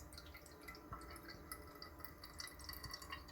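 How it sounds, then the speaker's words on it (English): Cold water dripping through a Gabi Drip Master pour-over coffee brewer, a quiet run of fast, irregular small drips and trickles, faint and close, with no talking. "It's actually dripping faster than I thought."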